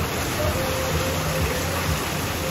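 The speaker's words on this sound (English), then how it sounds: "If you can see, it's pouring." Heavy rain pours down steadily at a theme park, a dense, even hiss of falling water filling the scene up close, with faint voices beneath it.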